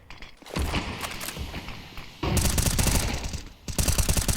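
Counter-Strike match on the Vertigo map at IEM Katowice 2024: rapid automatic spray fire, including a MAC-10, comes in loud bursts of fast clattering shots mixed with flashbang pops, with short pauses between bursts.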